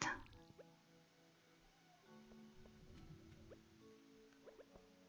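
Crops get watered in Stardew Valley: a faint splash opens, followed by soft liquid drips and plops, with small chimes and light game tones scattered quietly through.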